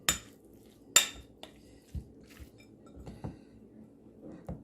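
Seasoned salmon stuffing being mixed in a bowl produces sparse, sharp knocks and clicks of a utensil against the bowl, a few distinct hits with soft mixing noise between them.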